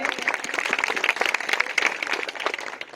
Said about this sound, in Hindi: बहुत बढ़िया, जोरदार ताली इनके लिए।